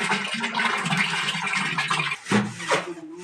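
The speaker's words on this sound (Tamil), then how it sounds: "இப்போ மீதிக்கு வந்து தண்ணி ஊற்றி கரைக்கிறோம் சாணியை நல்லா" Water is poured into a container to dissolve cow dung, with a loud, continuous gushing and sloshing that briefly pauses, then splashes again. Someone speaks over the pouring.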